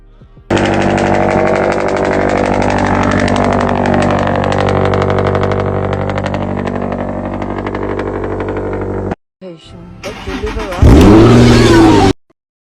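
A loud Subaru BRZ/Toyota 86 with an aftermarket exhaust revs and rumbles steadily for several seconds, drops out briefly, then roars up again in a sharp rev near the end.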